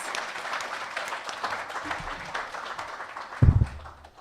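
After a speech at a governance dialogue event, an audience applauds in a moderate, fairly steady patter, ending with a louder bump near the close.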